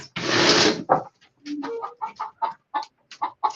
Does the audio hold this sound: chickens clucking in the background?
yes